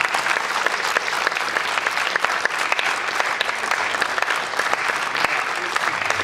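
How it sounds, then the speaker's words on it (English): Audience applause for a group of visiting student filmmakers at a screening event, steady continuous clapping from a crowd, fairly close and unbroken for the whole stretch with no talk over it. "Let's give them a round of applause."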